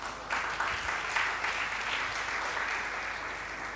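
A church congregation breaks into sustained applause to acclaim the Lord. The clapping starts suddenly and stays dense and steady, with a roomful of hands close and loud throughout.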